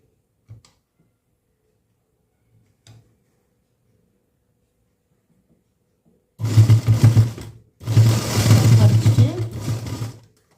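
A sewing machine stitches a lining blouse in a tailoring lesson, two loud close bursts of rapid whirring, a short one then a longer run, after a near-silent stretch with a couple of faint clicks.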